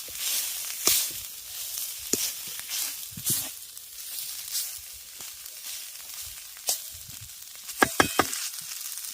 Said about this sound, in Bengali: আমি কড়াইয়ের মধ্যে দিয়ে একটা পটানো মেশার দিয়ে এটাকে ভালো করে ম্যাশ করে দিচ্ছি